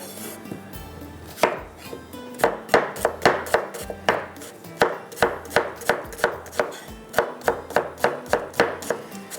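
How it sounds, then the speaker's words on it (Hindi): Two onions being sliced with a knife on a cutting board, a fast steady run of sharp chopping knocks in even rhythm, close and crisp, continuing for several seconds with little background noise. "2 अदद प्याज को स्लाइस में कटिंग करेंगे"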